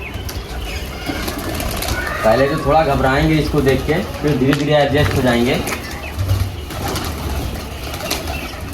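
Pigeons let out of their coop onto a rooftop pigeon perch coo softly and flap their wings in short bursts, while someone talks in Hindi close by over the birds.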